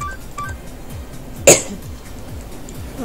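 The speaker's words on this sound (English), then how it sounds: "Stop coughing, please." One sharp, loud cough bursts out in the middle over a low, rhythmic background beat, with no other voices around it.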